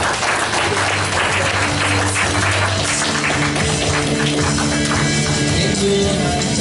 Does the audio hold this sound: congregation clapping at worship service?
yes